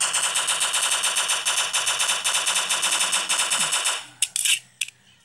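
Rapid automatic gunfire from the Block Strike video game rattles in a fast steady burst while shooting zombies, then stops and leaves a few scattered, separate shots.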